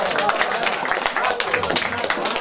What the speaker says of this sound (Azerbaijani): Gəlin hamımız bir əllə, əyəklə, bir əyəqə qalxaq, Mürvələdi alqışlayaq